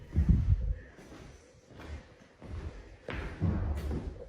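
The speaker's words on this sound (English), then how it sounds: "Did you hear that thump?" Dull thumps in an empty house, heard as a few low, muffled knocks spread over a few seconds, faint and seemingly from another floor, with quiet room noise between them.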